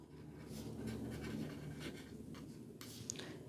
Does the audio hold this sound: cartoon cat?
no